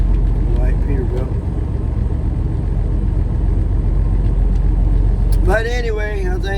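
A white Peterbilt truck with an emissions fault and derated engine idles with a steady, loud low rumble throughout, and a voice speaks over it near the end.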